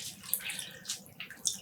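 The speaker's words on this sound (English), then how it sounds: "Squeezing out the water." Water squeezed out of a wet dyed yarn skein patters and trickles in soft, faint splashes onto a kitchen counter.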